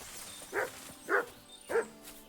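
A dog barks three times in Kingdom Come: Deliverance II, evenly spaced sharp barks at moderate distance in a quiet woodland setting.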